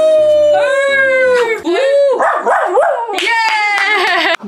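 Several dogs bark and break into long, wavering howls together, close and loud, over a few seconds of excited yipping and a brief burst of clapping.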